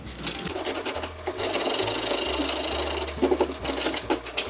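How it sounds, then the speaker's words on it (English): Sandpaper rubs over a wooden canvas stretcher frame in quick back-and-forth strokes, giving a close, loud, continuous scratchy rasp with rhythmic surges and no talking. "So we go over it with some sandpaper."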